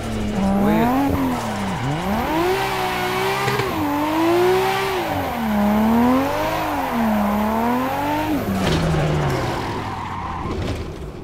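A car drifting in Assetto Corsa, played on a wheel rig, with a loud sustained tire squeal that wavers in pitch alongside a revving engine, close and continuous for most of the stretch before easing off.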